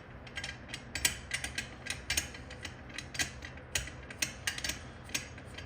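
Metal parts of an AR-15 upper receiver being unscrewed at the back, giving a run of close, irregular clicking and ratcheting ticks with small mechanical rattles and no talk.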